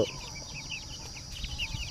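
Indian fighting-breed chicks, thirty to forty-five days old, in a batch of twenty, give repeated short chirps and cheeps over a steady background hum, close and moderately loud with no talk.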